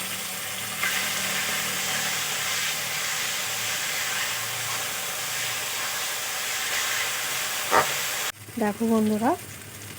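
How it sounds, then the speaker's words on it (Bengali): A paste of onion, garlic, ginger and green chilli frying in a pan, a steady close sizzle and hiss that runs for most of the time, then cuts off as a voice begins speaking near the end. "আরও কিছুক্ষণ আমি ভালো করে ভেজে নেব"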